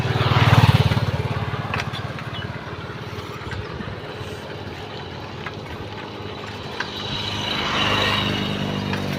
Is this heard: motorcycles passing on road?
yes